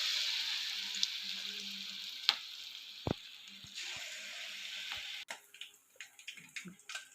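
Onion bonda batter fries in hot oil with a steady, close sizzle and occasional pops, then a few light clinks and scrapes of stirring toward the end.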